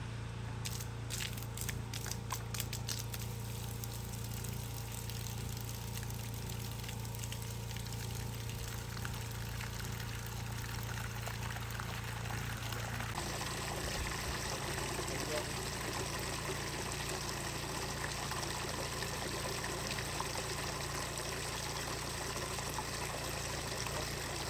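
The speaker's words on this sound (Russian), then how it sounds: "Запустили воду, осталось теперь промыть скважину" Water pumped from a newly drilled well at a forest house pours out in a steady, continuous rush. The tone shifts abruptly partway through and then keeps flowing.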